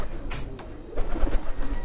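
Pigeons coo softly on a rooftop over a low rumbling background, a few murmuring calls blending together close by.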